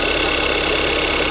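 Kia Soul engine idling while stalling at stops and low on power, a steady, even mid-pitched running hum with a faint rattle, close and constant throughout the short stretch.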